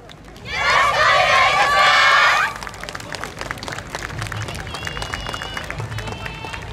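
An audience at the 2019 Omigawa YOSAKOI hometown festival bursts into loud cheering, shouts and applause for a dance team for about two seconds, then the noise drops to a lower crowd murmur while a voice speaks.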